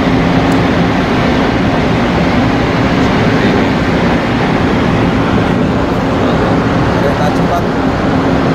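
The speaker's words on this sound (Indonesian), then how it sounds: "inilah kereta cepat yang ada di kota Mekah ya" Inside the high-speed train running from Jeddah into Mecca, a loud continuous rumble and rush of wheels and motion fills the cabin steadily, with a voice speaking over it.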